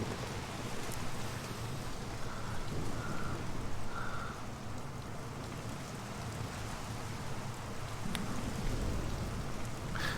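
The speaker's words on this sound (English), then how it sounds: "even though you hear the rain." Steady rain falling in the video game Mafia: The City of Lost Heaven, a continuous broadband hiss of downpour with a low rumble underneath, even and unbroken throughout, with no talking.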